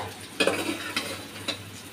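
Potatoes with chopped green chili frying in a pan, with a low sizzle and a few sharp scrapes and knocks of a spatula as they are stirred.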